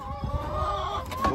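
Hens cluck and squawk around wire-bottomed roll-away nest boxes on a farm, a close, fairly loud run of overlapping calls with one louder squawk near the end.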